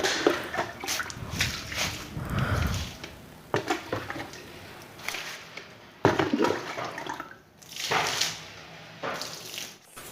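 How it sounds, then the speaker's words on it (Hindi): Water is poured and splashed outdoors while cleaning the area outside a home after sweeping, coming in uneven sloshing bursts with short pauses. It is fairly close and moderately loud, with no talking. "ये मैं बाहर की झाड़ू लगा रही हूँ और फिर पानी वगैरह जो भी डालते हैं वो डालकर"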